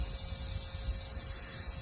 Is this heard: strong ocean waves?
no